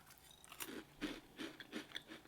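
Crunchy frosted breakfast cereal with pastry-like pieces is chewed close to the microphone, giving a soft, steady rhythm of quiet crunches about twice a second.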